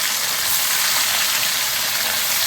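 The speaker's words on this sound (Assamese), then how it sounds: "এয়া এতিয়া তেল অকণমানতে এয়া মাছকেইটা মই এটা এটাকৈ ভাজি ল'ম।" Borolia fish frying one by one in a small amount of oil, giving a steady, dense hiss and crackle that holds at an even level throughout, close and without speech.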